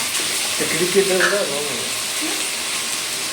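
Cut raw mango pieces sizzle steadily in a hot pan while being stirred, a soft continuous hiss with a brief scrape of stirring near the start.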